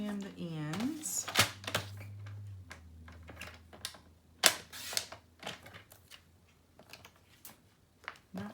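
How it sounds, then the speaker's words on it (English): Trimming the ends of a picture for a paper Christmas folio, with a series of sharp, close cutting clicks and snips at uneven intervals and a voice briefly at the start. "So I'm just going to trim the ends."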